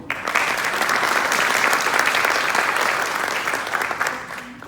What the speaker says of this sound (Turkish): Sayın şahitlerimize alkış yok mu?